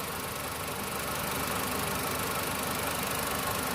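A cold engine just started idles with a steady, rough, knocking low rumble, near and continuous, with no talk over it.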